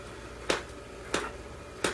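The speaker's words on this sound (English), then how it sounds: "you're going to slam the can down. It's going to make a little clapping noise." Three sharp clapping smacks of a finger slapping down onto the lid of a dip can, spaced roughly evenly and close by, with nothing else over a quiet background.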